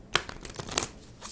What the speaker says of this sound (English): Alright, one more little shuffle here,